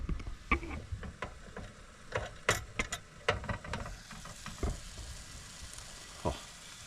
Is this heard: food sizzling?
yes